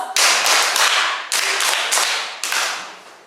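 A class of students in a storytelling lesson claps for themselves: dense, close group clapping in three bursts, each starting sharply and tapering off, with no talk.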